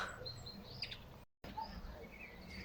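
A small pink-breasted bird chirps faintly in a spring garden, giving a few thin, high tweets over soft outdoor background noise, with a brief dropout partway through.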